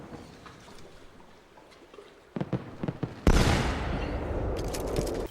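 Pistol gunfire in the video game Assassin's Creed 2, a few sharp cracks followed by a loud burst and sustained noisy rumble, close and prominent over a quiet background.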